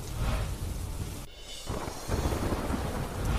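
Heavy monsoon rain pours over Amreli town, a dense continuous roar with rumbling thunder and wind gusts buffeting the microphone, dipping briefly before swelling again.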